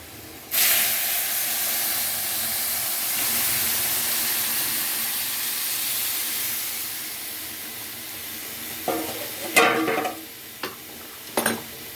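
Lentils tipped into a sizzling tempering in a pot for bitter dal with bottle gourd: a sudden loud sizzle erupts and settles into a steady hiss, with a few clattering stirs near the end.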